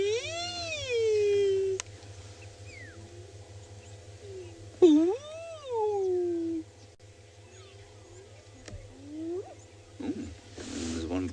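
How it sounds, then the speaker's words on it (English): A hyena's rising whooping calls echo from far off, separated by pauses, over a steady low hum. "Hyena away in the distance."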